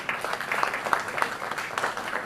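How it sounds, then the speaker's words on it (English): An audience welcoming a panel at a film festival panel discussion, a short burst of steady applause from a crowd in a hall, moderately loud and sustained. "please join me in welcoming our distinguished panel with a big round of applause"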